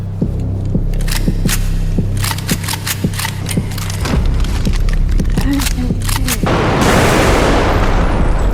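Gunfire from new weapons in the Bodycam shooter game, covering a compact SG9X, automatic shotgun, bolt-action sniper rifle and pistols, fired as loud, sharp shots in an irregular sequence before a sustained roaring burst at the end.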